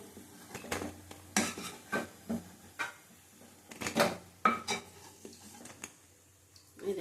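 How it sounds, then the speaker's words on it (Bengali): Fried mung dal fritters being lifted out of a pan, with a series of clinks and scrapes of a metal utensil against cookware in irregular bursts, fairly quiet and close. "দেখো, সব বড়াগুলি ভাজা হয়ে গেছে, তুলে নিলাম"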